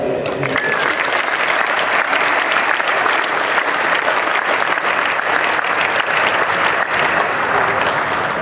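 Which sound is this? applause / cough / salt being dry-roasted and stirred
applause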